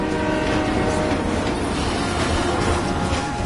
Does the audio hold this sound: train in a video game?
yes